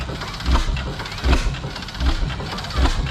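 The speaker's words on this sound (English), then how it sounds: "So it's an oil field, Reed oil field engine." An antique Reed oil field engine, built in Oil City, Pennsylvania, runs at an outdoor show with slow, regular low thumping beats about every three-quarters of a second over a continuous mechanical rumble.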